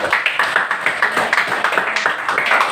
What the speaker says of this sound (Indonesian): Beri dulu tepuk tangan kepada temannya.